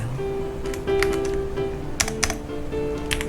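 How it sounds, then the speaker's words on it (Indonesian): Computer keyboard typing while writing program code, irregular clusters of crisp key clicks at close range over a faint steady hum, with no talking. "Yang pertama ini kita akan ngetik library"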